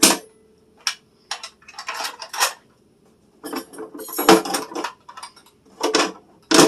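Steak knives clink and clatter in a kitchen drawer during organizing, a series of sharp metallic taps and rattles in short bursts separated by pauses, close and fairly loud.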